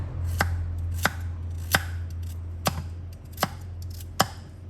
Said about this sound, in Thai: หลังจากนั้นก็จะมาหั่นผักค่ะ แครอทค่ะ